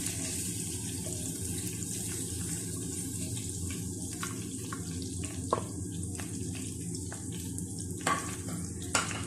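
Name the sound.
mutton chops frying in a pan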